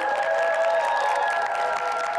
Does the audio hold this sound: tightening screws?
no